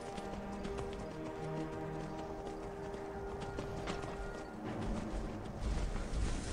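Horse hooves gallop in the video game Skyrim, a quick steady clip-clop rhythm with a brief whinny, faint under game ambience.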